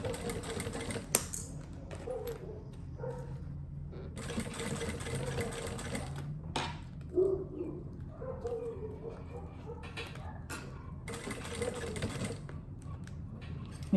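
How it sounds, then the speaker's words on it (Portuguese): A sewing machine stitches a lid onto a zipper for a double cosmetic case, running in steady rapid bursts with short pauses between runs, close and moderately loud. "Agora a gente vai fazer essa costura aqui, prendendo a tampa no zíper"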